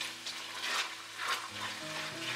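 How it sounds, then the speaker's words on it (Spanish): Garlic fries in oil in a pan over medium-low heat, giving a soft, quiet sizzle with gentle swells as it is stirred, and nobody speaks. "En este mismo aceite a fuego medio bajo agregamos el ajo"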